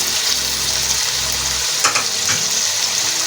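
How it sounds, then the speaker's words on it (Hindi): Tomatoes added to chicken karahi in a hot pan, a loud continuous sizzle and fry with scraping stir noises and a few sharp clatters toward the end, close up, no talk. "इसके साथ ही टमाटर डाल देंगे, 3 से 4 टमाटर नहीं।"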